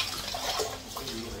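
Tap water runs steadily as sushi rice is rinsed for the third time in a kitchen sink, a continuous close splashing hiss with faint voice-like murmurs underneath.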